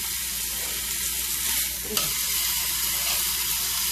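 Meat crust sears in a hot frying pan, a steady close sizzle and crackle with a brief stir or scrape midway, no talking.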